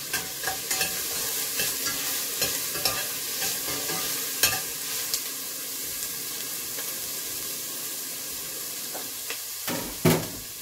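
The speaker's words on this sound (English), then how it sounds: "Now let's stir." Scotch bonnet pepper being stirred in a frying pan, a steady sizzle with repeated scraping clicks of the utensil, a louder clatter near the end, no talking.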